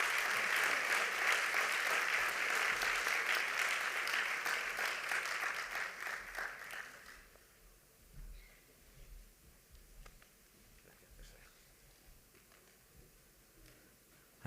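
Applause from the audience at a health technology assessment conference opening ceremony, a broad sustained clapping for about seven seconds that then cuts off, leaving a quiet hall with faint scattered sounds.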